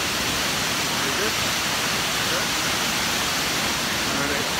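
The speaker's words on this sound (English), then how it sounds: "Because we found the waterfall." A waterfall in Karura Forest roars as a steady, dense wash of rushing water, loud and continuous throughout with no breaks.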